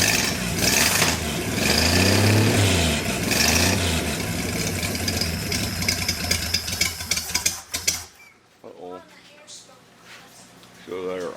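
A boosted car engine idling on its first start, rumbling loudly up close with some rise and fall in pitch, then dropping away while people talk nearby.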